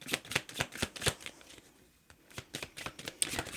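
Tarot cards shuffled by hand in quick, crisp riffling bursts, close and fairly loud, with a brief pause midway before the shuffling resumes.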